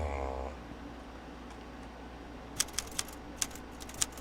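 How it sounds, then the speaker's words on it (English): Keyboard typing inside a virtual role-play game, a few sparse, crisp key clicks in short bursts over a quiet hum after a brief low tone at the start. "I don't know what you're typing there"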